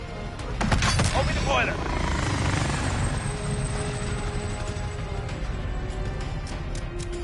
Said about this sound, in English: I'm getting the helicopter coming to get you.